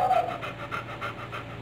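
Dog panting close by, quick regular huffs of breath in a steady rhythm, heard alone for a moment.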